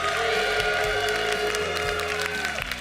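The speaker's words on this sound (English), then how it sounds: "That's a nice round of applause for the fan favorite RHYS." Audience applause and cheering at an esports tournament, the Summoners War Americas Cup, steady and dense crowd noise filling the hall throughout, with a tonal musical bed underneath.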